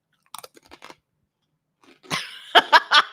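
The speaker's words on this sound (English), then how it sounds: "we have snacks, but they are all crunchy. So expect to hear this from time to time." Crunchy snacks are bitten and chewed close to the mic in a home livestream setting, with a few light crackles first and then loud, wet crunching bursts in quick succession.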